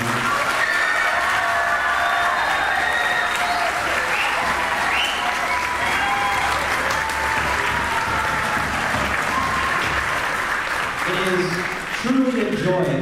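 Audience applause fills a school auditorium after high school band performances, a steady dense wash of clapping with a few cheers that holds loud throughout and swells briefly near the end.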